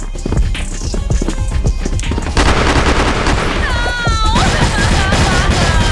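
Gunfire in a video game comes as loud, rapid bursts of shots packed close together, with a few sharp, whistling tones mixed in partway through.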